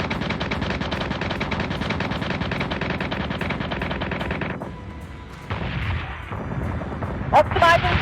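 Warship guns in Battlestar Galactica Deadlock fire in a rapid, sustained rattling barrage that pauses briefly, then resumes with heavier booming shots toward the end.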